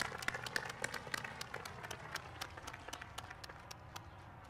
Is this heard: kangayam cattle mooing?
no